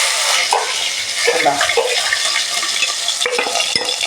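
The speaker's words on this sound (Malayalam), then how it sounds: "അപ്പം അവിടെ കടുകൊക്കെ പൊട്ടിയിട്ടുണ്ട്. അപ്പം നമുക്ക് അതിലോട്ട് കൊച്ചുള്ളി ഇട്ട് കൊടുക്കാം." Small shallots dropped into a hot pan of popped mustard seeds, frying with a loud continuous sizzle and occasional stirring scrapes close by.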